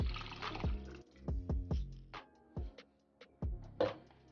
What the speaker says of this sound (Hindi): मैं इसके अंदर 1 और गिलास पानी का ऐड कर देती हूँ।